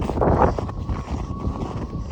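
A strong blizzard wind gusts across a frozen lake during an ice-fishing derby, buffeting the microphone with a steady low roar for a couple of seconds and no voices.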